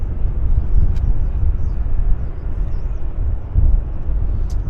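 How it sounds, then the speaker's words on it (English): Jet airliners at Vancouver International Airport, an arriving Airbus A319 on the ground and a CRJ inbound in the distance, produce a steady, loud low rumble of engine noise that swells slightly at times, with no talk. "this arrived A319, and we do have out in the distance this CRJ that's inbound from Regina"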